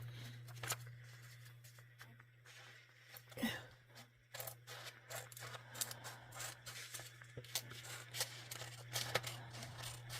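Scissors snip through paper for a junk journal in quiet, irregular cuts and rustles, set against a low steady background hum.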